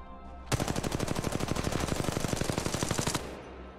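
Sustained automatic weapon fire in the mobile game Apex Legends Mobile, a fast, loud, evenly spaced burst of rounds lasting nearly three seconds before cutting off abruptly.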